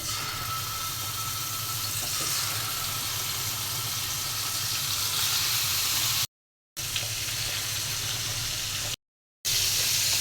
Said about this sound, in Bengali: তরকারি রান্নার জন্য আমি মাছগুলো ভেজে নেব।